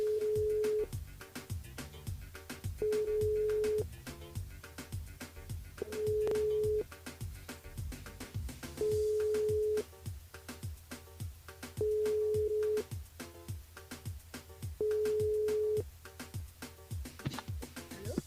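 Telephone busy tone during a live radio call-in show, the line hung up: a steady pulsing beep repeating about every three seconds over music and program audio.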